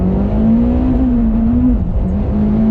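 A Mitsubishi Evo X pulls hard up through the gears with the throttle held flat during shifts, a loud, steady engine drone close by with brief dips in pitch at each gear change.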